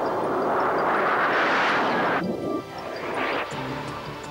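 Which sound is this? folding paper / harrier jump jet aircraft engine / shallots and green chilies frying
harrier jump jet aircraft engine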